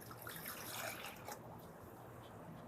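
Water poured for a sourdough starter, a steady faint pouring wash that fades after about a second and a half into quiet room noise, with no talking.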